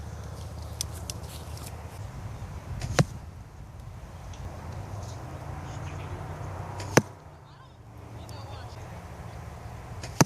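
Arrows loosed from a bow using a trigger release at an outdoor archery range, with sharp single snaps near 3, 7 and 10 seconds over a steady low background rumble, sparse and fairly close.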